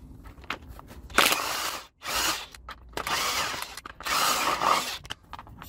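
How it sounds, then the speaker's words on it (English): A large impact wrench with a 22 mm socket spins off the self-locking nut on a 1992 Toyota Corolla 4A-FE strut, in several loud, close bursts of buzzing rattle separated by brief pauses. "I use my bigger impact."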